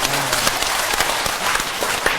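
Lecture audience applauding together, a dense burst of many hands clapping that fills the short moment with no voice over it.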